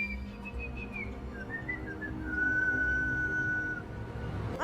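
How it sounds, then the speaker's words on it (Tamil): A girl whistles a tune alone, in a thin melodic line of short gliding notes that end in one long held tone, over a steady low background hum. "இந்த பொண்ணு விசில் அடிச்சுக்கிட்டு இருக்க"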